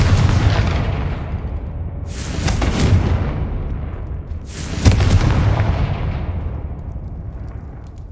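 Confringo fire spell blasts in Hogwarts Legacy: two loud, booming explosions a few seconds apart over a rumbling battle background, each with a sharp crack and a long rolling decay, no talk.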